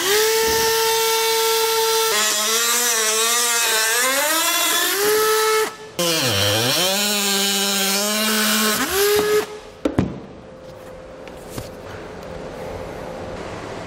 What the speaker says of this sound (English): we're going to cut this out and put it back in place